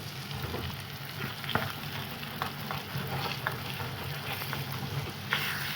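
Eggs and oil frying in a pan for a cauliflower egg bhurji, a steady close sizzle with faint stirring clicks and scrapes throughout, no talking.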